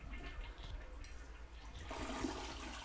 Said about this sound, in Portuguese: I assume you have to flush for them as well.